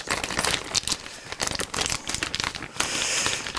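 Scissors cutting open a 1 kilogram bag of brown sugar, with several sharp crinkling and crunching bursts of plastic packaging close by, ending in a steadier rustle.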